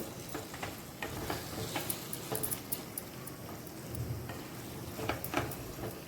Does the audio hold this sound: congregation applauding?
no